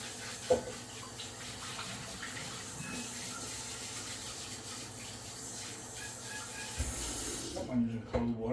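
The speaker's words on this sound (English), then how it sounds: "I'm using cold water." Cold water runs from a kitchen tap during biscuit making, a steady close rush of flow that cuts off near the end with a couple of knocks and clatters.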